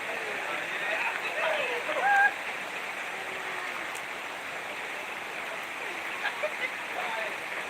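Steady rain falls around a fishing pond outdoors, a continuous even hiss with a few brief brighter drips and splashes near the middle and end, and no voices.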